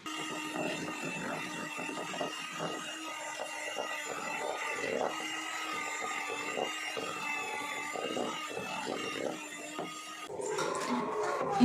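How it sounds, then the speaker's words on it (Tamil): An electric beater whirs steadily through butter and 200 grams of powdered sugar, a continuous motor drone with faint scraping for most of the clip, shifting in pitch near the end. "அப்படியே கொஞ்சம் கொஞ்சமாக ஆட் பண்ணி 200 கிராம் பவுடர் சுகரையும் ஃபுல்லாக ஆட் பண்ணி பீட் பண்ணுங்கள்"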